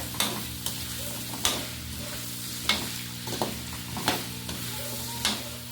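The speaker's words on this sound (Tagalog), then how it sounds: "Mix natin together yung patatas." Pork adobo with potatoes stirred in a pan, with a steady sizzle under a handful of sharp spatula scrapes and taps spaced about a second apart, close and fairly quiet, no voices.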